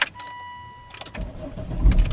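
A Volvo XC90 D5 diesel engine cold starts at twelve below zero: a quiet lead-in, then the starter cranks briefly and the engine catches into a rough, rising idle close by.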